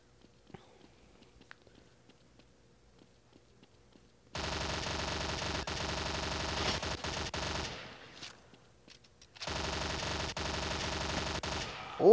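Gunfire in the video game Crossfire, with a shotgun among the weapons: long, dense bursts of rapid, loud firing break in after a quiet stretch, pause briefly, then resume.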